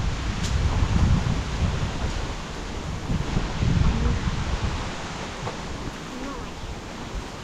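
Dry wind gusts through a forest, a steady broadband rush with rustling leaves that swells and eases over several seconds, fairly loud and close to the microphone.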